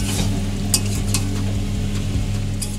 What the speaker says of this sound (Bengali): দেখতে পাচ্ছ ভালো করে আমরা নাড়াচাড়া করে নিচ্ছি।